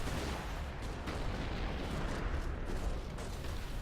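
Battle gunfire in the Company of Heroes video game: a dense, faint wash of distant shots and booming artillery-like bursts rolling continuously over a few seconds, with no voices.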